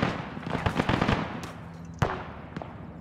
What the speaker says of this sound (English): Okay, guys, we're getting shot up.